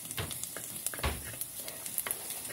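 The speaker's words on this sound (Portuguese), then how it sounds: "Estão vendo aqui a cebola na panela de barro." Golden onion frying in a clay pot, a close, steady sizzle broken by the scrape and clatter of stirring, with no voices.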